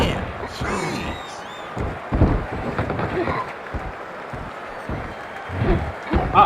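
A wrestling arena crowd in the video game WWE 2K24 roars and cheers continuously, swelling in bursts and mixed with impact thuds and commentary.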